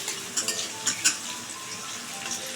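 Sliced onions frying for beresta, a soft continuous sizzle with a few light clinks and scrapes of a spatula stirring in the pan, close and fairly quiet, no speech.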